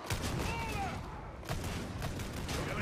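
Gunshots in Warhammer 40,000: Darktide ring out as sporadic distant pot shots amid a dense, noisy combat soundscape, with a couple of sharper bursts.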